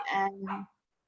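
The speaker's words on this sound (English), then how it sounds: "Yeah, that's my dog." A dog gives two quick barks close by, the second softer, then silence.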